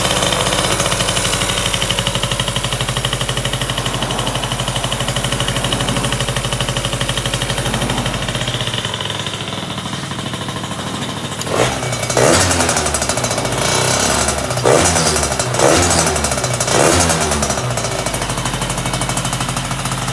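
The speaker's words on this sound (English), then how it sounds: "So I'll basically let it warm up for a second with the choke on" Two-stroke scooter engine idling with the choke on while warming up after a new cylinder, a steady rattling, buzzing drone close by that turns choppier with uneven revs partway through.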